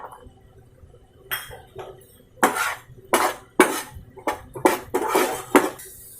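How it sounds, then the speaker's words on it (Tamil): A metal utensil clinks and scrapes against a pan several times as garlic goes in to sauté, the knocks coming in an irregular series of sharp, fairly close hits over a quiet background. "பூண்டு போட்டுக்கலாம்."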